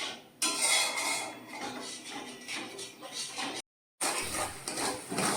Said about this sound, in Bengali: এবার গ্যাস জ্বালিয়ে মশলাটাকে একটু কষিয়ে নিতে হবে।